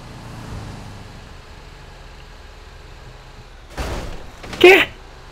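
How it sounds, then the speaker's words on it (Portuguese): In the GTA 5 video game, a truck's rear door slams and breaks off, giving a sudden loud bang and then a second louder crash after a quiet engine hum. Someone speaks over the moment. "Perdi a porta de trás do caminhão, por quê, mano?"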